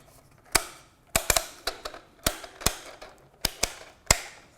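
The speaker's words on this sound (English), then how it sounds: "I can quickly load 10 rounds into the mag just on a stripper clip like this, just by pushing it down" Rifle rounds pushed from a stripper clip down into a Lancer hybrid magazine, producing about a dozen sharp, close metallic clicks at an uneven pace against a quiet background.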